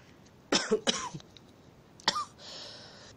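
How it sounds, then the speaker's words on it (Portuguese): A short run of three close, harsh coughs in quick succession, followed by a faint hiss. "me deu até acesso de tosse"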